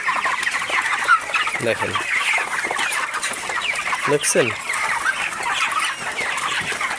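Broiler chickens about 22 days old cluck and chatter steadily in a poultry shed, with a couple of louder squawks breaking through, while someone speaks over the flock.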